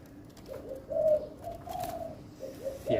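A spotted dove kept in a cage coos in a steady run of soft, rounded calls, close by and alone.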